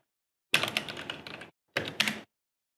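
Keys clatter on a computer keyboard as a font name is typed, in two quick bursts of close, crisp clicks separated by a short pause.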